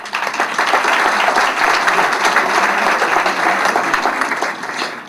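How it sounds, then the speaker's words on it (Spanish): Steady, loud applause from an audience at an evening opportunity meeting, many hands clapping in a dense, sustained wash that tapers off slightly at the very end. "Un aplauso,"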